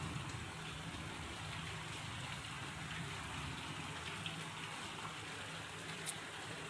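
Continuous monsoon rain pouring onto plants and foliage, a dense even wash of patter with scattered close drops, steady and unbroken, no voices.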